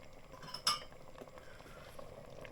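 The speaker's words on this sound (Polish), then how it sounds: "Jak pomidory się zagotują, zdejmuję pokrywkę" A metal lid comes off a pot of boiling tomato sauce with a single sharp clink, followed by quiet bubbling and faint kitchen clatter.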